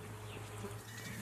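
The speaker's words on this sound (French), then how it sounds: "avoir mon propre troupeau de mérinos" A flock of merino sheep on a farm in the Livradois-Forez park gives faint, distant bleats over steady low background noise, with no talking.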